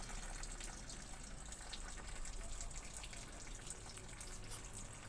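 Water runs in a steady, continuous stream to soak the roots of a potted crassula money plant during repotting, a constant gushing pour at close range with no break for the whole stretch.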